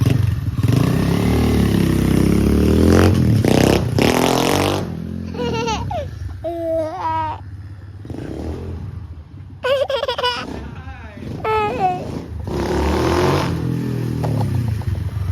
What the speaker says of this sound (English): You guys can like just twist on the throttle, rev it right up, no bogging, no issues,